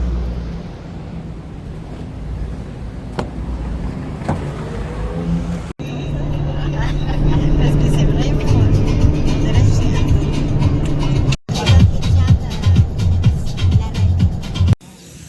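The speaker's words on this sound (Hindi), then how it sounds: "आज की डेज़र्ट सफारी के लिए हमारी गाड़ी आ चुकी है, ये है हमारी गाड़ी टोयोटा सीक्वा" A Toyota Sequoia SUV on the way to a Dubai desert safari gives a steady road rumble and engine drone, heard from inside the cabin under a person talking, with occasional wind buffeting and brief dropouts.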